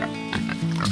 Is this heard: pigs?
yes